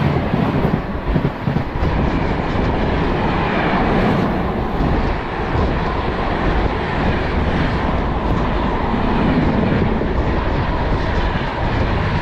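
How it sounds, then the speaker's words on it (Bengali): The 12318 Akal Takht Express roars past on a crossing track in Uttar Pradesh, a loud, continuous rush of rolling wheels and rattling carriages heard up close from a moving train, steady throughout with no voices. "এই দেখো ক্রসিং হচ্ছে"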